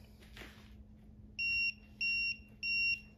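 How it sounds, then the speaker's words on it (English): Quiet alarm of a Ticktime pomodoro timer: three short, soft electronic double-tone beeps in a steady rhythm, heard close and fairly faint over a low background hum. "Nice gentle alarm."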